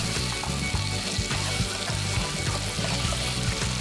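Chili oil and vegetable oil sizzle steadily in a pan while being mixed, a dense, even crackle with a low rhythmic scraping pulse running throughout, close and loud with no talking.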